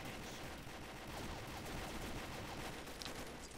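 Steady gunfire from a weapon in the shooter Combat Arms, heard as a fairly quiet, continuous stream of rapid shots with no pauses.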